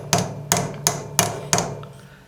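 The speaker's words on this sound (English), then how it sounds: "And then go in with just the flat hammer." A flat-faced hammer taps metal tubing while a solderless jewelry bead is made. Five sharp, close, steady strikes land in even rhythm, with no talking.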